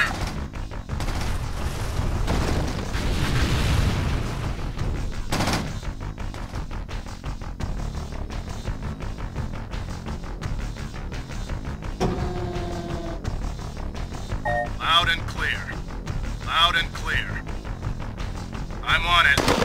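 Heavy gunfire and booming explosions rattle through a Command and Conquer Tiberian Sun battle, dense and continuous for the whole stretch, with unit voices and chatter mixed underneath.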